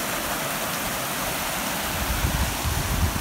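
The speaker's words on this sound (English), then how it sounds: "Beautiful brook." Forest brook flowing near a camp with birch and maple trees, a steady broadband rush of running water, close and continuous, with no talking.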